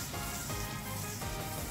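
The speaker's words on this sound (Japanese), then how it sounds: "やばい、ジュージューいってます。" Steady, loud sizzling from food frying in a hot pan, a continuous crackling hiss with no talking.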